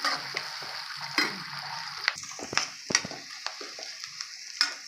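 Green chillies and onions sizzle in hot oil for vegetable biryani, a crackling fry broken by sharp stirring scrapes and ticks against the pan, fairly close and without talk.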